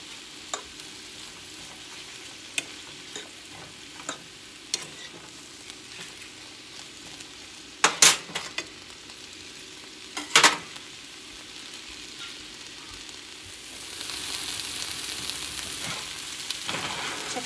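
Peppers and shrimp sizzle steadily in a hot frying pan, a constant hiss broken by a few sharp clinks of a utensil stirring, with the frying growing louder and brighter toward the end.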